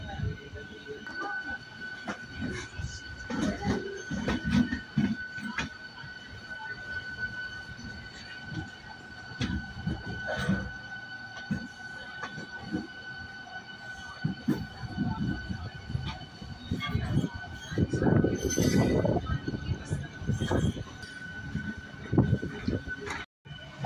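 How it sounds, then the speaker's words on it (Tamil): A MEMU express train runs along the rail line between Karnataka and Tamil Nadu, climbing toward the Hosur line, with a steady rumble of wheels on track, clanks at rail joints, occasional metallic squeals and a sustained tonal whine overhead. "இப்போ நீங்கள் பார்த்துட்டு இருக்கீங்களா, ஆக்சுவலாக நம்ம ட்ரெயின் பார்த்தீங்கன்னா அப்படியே மேலே ஏறுதா."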